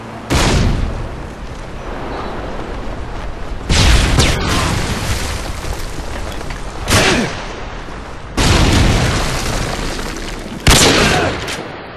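Flash bombs burst one after another in a video game, four or five sharp, loud booms spaced a few seconds apart, each with a crackling tail and no talk over them.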